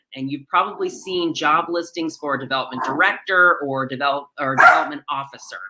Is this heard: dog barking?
yes